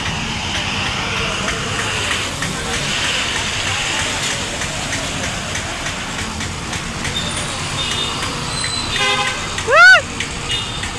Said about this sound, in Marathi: हे पहा इथं कसं चालते गाड्या